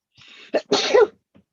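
A single sharp sneeze bursts out nearby after a soft intake of breath, followed by a brief quiet sniff.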